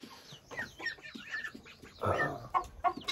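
Several chickens cluck and squawk nearby in a busy, overlapping chorus, with short sharp calls and bursts of flapping-like noise.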